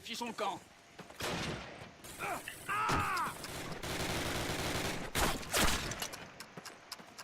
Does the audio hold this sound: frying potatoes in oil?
no